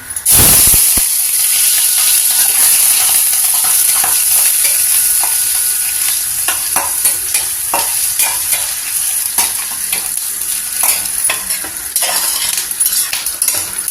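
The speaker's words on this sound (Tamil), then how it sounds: "எண்ணெய் நல்லா சூடாயிடுச்சு இப்போ இந்த பன்னீர் அதில் போட்டு அப்படியே லைட்டாக கோல்டன் கலர் மாறினதும் எடுத்துடலாம்" Paneer drops into hot oil in a kadai with a sudden loud burst, then fries with a strong, continuous close sizzle, broken by scattered metallic clinks and scrapes of a spoon.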